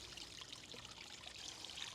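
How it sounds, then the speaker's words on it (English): Water trickles steadily in a small garden pond, a soft, continuous splashing hiss heard alone and fairly faint throughout. "the little sound of water, even in a small pond, the quintessential part of a pond"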